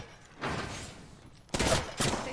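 Gunfire in Apex Legends, a few short bursts of shots with a louder volley near the end, moderately loud, no voices.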